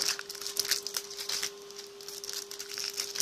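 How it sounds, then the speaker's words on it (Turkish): A football trading card pack wrapper from a Champions League tin is torn open up close, giving a few seconds of steady crinkling and crackling plastic with a faint constant hum underneath. "Bir, ta bir tane Fabregas paket açalım."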